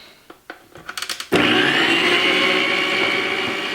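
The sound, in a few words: hand blender mixing milk into batter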